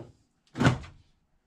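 A foot pump on an RV flush toilet gets pressed, giving a single short close thunk with a brief rush as the valve opens, then quiet.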